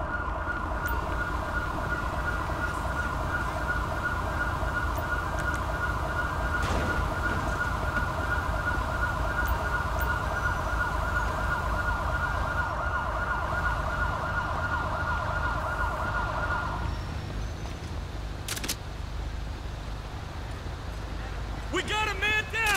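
Ambulance siren in the video game GTA V: a loud, rapidly warbling electronic wail repeating for about seventeen seconds before cutting off, over engine and road rumble, with radio-style voices talking during it and a short siren burst at the end.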